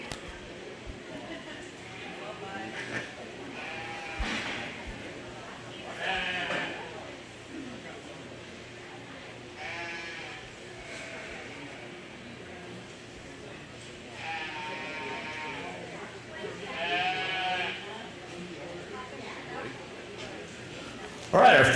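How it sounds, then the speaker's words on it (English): Purebred Hampshire ewe lambs bleat several times in a show ring at a county fair 4-H/FFA sheep show. The calls are moderately loud and sound over crowd murmur and an announcer's voice. "first class is a purebred Hampshire ewe lamb class"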